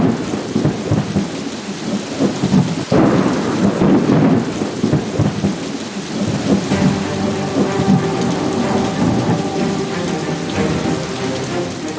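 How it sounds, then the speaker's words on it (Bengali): A thunderstorm with heavy rain and hail pours steadily, with loud rolling thunder swelling near the start and a sharp crack around three seconds, the downpour continuing dense and unbroken throughout with no voices. "প্রবল দুর্যোগ, ঝড় বৃষ্টি,"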